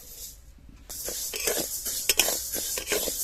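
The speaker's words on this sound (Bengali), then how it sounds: "এখানে 150 গ্রাম মুগের ডাল নিয়েছি, ভেজে নেব গরম কড়াই।" Moong dal sizzles and rattles in a hot wok as a spoon scrapes and stirs it, with a steady frying hiss underneath.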